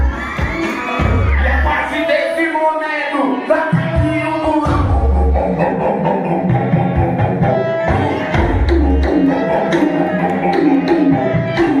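A lively wedding crowd cheers, whoops and shouts, with high children's yells mixed in; the noise swells and fades in waves and stays loud and close throughout.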